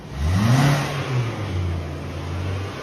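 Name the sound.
car engine revving rough, sounding like a diesel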